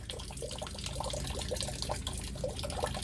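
Subsurface groundwater pours out of a backyard French drain system, a close, steady trickling and splashing flow of water running continuously, fairly quiet, with no talking.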